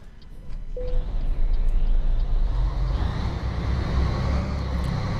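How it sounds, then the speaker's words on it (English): Scania 112h truck engine in Euro Truck Simulator 2 revs up with a steady low rumble and continuous drone, holding loud and close throughout with a brief tonal blip near the start; no clear stall dropout. "I just accelerated then and it stalled"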